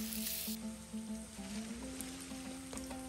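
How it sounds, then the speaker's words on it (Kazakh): Steady sizzling of onions frying in hot oil, with a faint bright hiss at the start and a low humming tone running underneath. "Енді осының үстіне пиязымызды қосып қуырып аламыз."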